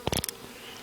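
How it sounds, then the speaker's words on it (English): Honeybees buzz during a residential hive cutout, with a short cluster of close, fairly loud buzzing bursts in the first third of a second that then fade to quiet background. "What are you doing there, little bee?"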